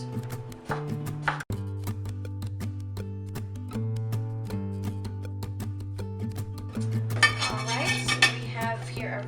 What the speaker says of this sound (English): Take this zucchini, we're gonna cut it into half moons.